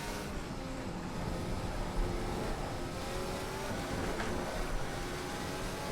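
A Ferrari F14 T Formula car engine in the Assetto Corsa racing game holds a steady, loud, high-revving drone throughout, with slight rises and falls in pitch and no voices over it.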